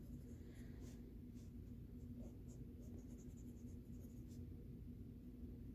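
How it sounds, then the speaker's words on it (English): Pen scratching across paper while drawing a small soccer ball, a steady close scratchy stroking with short repeated marks over a constant low background hum, no talking. "So I'm going to draw my little soccer ball."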